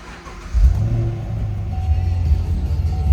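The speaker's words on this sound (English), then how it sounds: "We'll fire this up so you can hear it run." A 2010 Chevrolet Camaro SS V8 cranks and catches after a brief pause, then settles into a deep, steady, loud rumbling idle close by.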